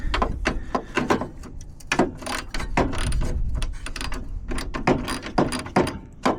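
Ratchet working 8mm bolts loose on the grille of a late Mk1 Volkswagen Westfalia, a close, busy run of rapid mechanical clicks and scraping metal bursts in uneven clusters.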